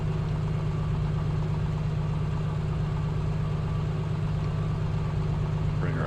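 An A2A Comanche piston engine idles in Microsoft Flight Simulator 2024, a steady low, throbbing drone at an even rhythm, with nothing else heard over it.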